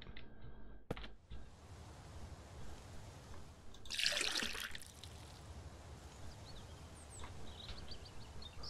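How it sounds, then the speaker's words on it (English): Drinking water in the survival game Mist Survival: a close gurgling, slurping burst of liquid rises after a sharp click, set against a steady low ambient hiss, with faint trickling afterward. "let's finally drink"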